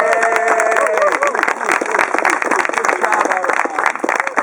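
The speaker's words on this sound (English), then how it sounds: "a round of applause for the Audubon Society for doing amazing work" Audience applause and cheering at an outdoor bald eagle release at Willow Grove Park, a dense, steady wash of clapping with crowd voices mixed in throughout.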